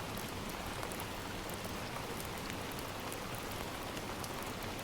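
Steady rain falling, a soft even hiss of drops with faint patters scattered through it, continuous and fairly quiet with no voices.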